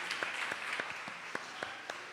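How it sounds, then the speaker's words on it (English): Light, sparse applause from a small audience at a university open day and job fair opening ceremony, a handful of distinct claps heard fairly faintly and evenly spaced. "Give her a round of applause"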